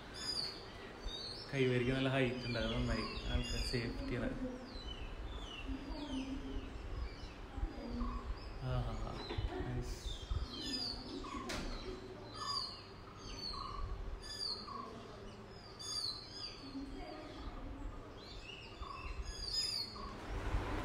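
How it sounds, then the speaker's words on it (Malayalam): Birds chirp and call around a coffee plantation resort in Coorg, with repeated short tweets and whistles throughout, moderately loud, while a person talks over them. "നല്ല കിളികളുടെ ഒക്കെ സൗണ്ട് ഉണ്ട്."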